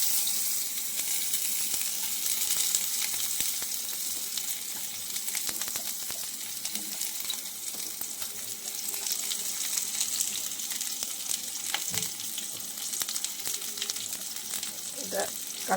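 Lote fish roasting in a pan for a bottle-gourd-leaf paturi, giving a steady, moderately quiet frying sizzle with occasional soft clicks and stirring sounds, no voices.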